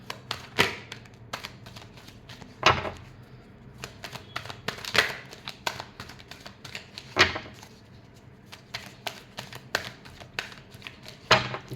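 Tarot cards being shuffled, giving a run of sharp, irregular riffling clicks and taps, fairly close and alone with no talk.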